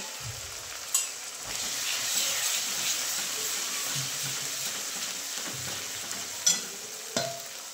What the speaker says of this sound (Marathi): आता कांदा चांगला लाल भाजून घेते